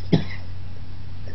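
A single short cough near the start, fairly close, then steady low hum with no voices.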